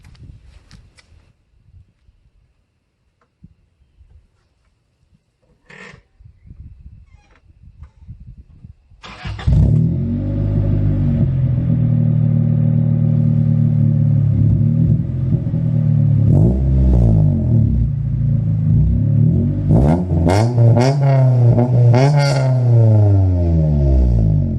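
A 1992 Honda Civic with an aftermarket eBay exhaust and weld-on Magnaflow muffler starts up and settles into a loud, close idle, then revs several times in rising and falling sweeps toward the end; quiet handling noises come before it.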